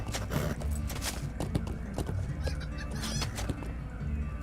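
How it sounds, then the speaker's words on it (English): Chickens cluck and squawk on a small farm, a busy, overlapping chorus of short calls at moderate distance with scattered thuds and rustling beneath. "The chickens."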